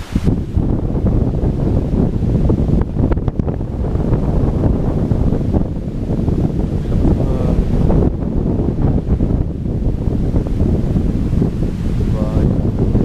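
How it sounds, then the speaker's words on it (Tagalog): Strong wind buffets the microphone in a continuous loud roar, gusting throughout with a voice briefly audible beneath it. "Dito sapul na sapul talaga dito sa hangin."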